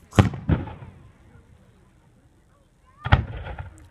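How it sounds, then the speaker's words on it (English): Two sharp booming bursts of fireworks close together, a quiet lull with faint crackle, then another loud blast with trailing rumble. "All I could hear is boom, boom, like full blast."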